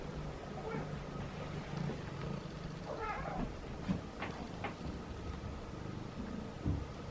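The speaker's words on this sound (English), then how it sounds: "I hear a lot of purring today." Feral cats purring and chewing dry food close by, a low continuous rumble with a few short meow-like calls breaking through, no talking.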